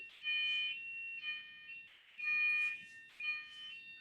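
A faulty building smoke alarm goes off in a loud, piercing electronic tone that pulses in about four long bursts with short gaps, with no talking over it.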